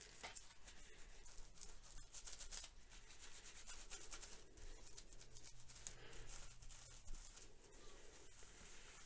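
Decoupage paper is rubbed onto a wooden Christmas bauble with repeated soft, dry, scratchy strokes, quiet and close, continuing steadily throughout.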